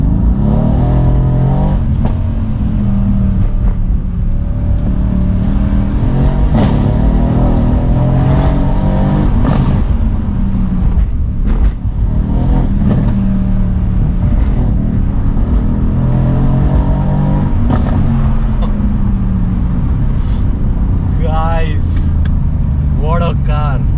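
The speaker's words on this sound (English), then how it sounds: "I'll just let you guys hear the exhaust" A Mercedes-AMG C63s exhaust booms loudly from inside the car while driving, with sustained engine drone, repeated revving surges and gear-change pops across the whole stretch, with no talk over it.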